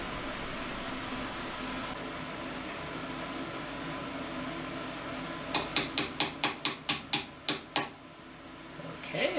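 A hammer knocks a stuck drill bit out of a CNC machining fixture: about nine sharp, ringing metallic strikes in a quick, even rhythm, close and loud over faint workshop hum.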